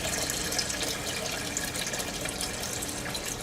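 Water poured by the cup into a plastic drum used for raising tilapia fish, a continuous close splashing gush at moderate volume with no voices.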